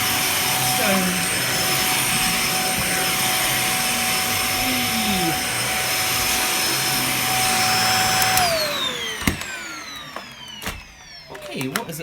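A Dyson DC50 vacuum cleaner runs on carpet after a repair, a loud steady whine and rushing roar that drops in pitch as it powers down near the end.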